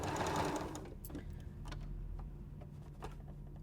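A domestic sewing machine runs briefly while stitching quilt block fabric for an arrowhead star, a dense buzzing burst at first that fades into lighter mechanical ticking and clicks.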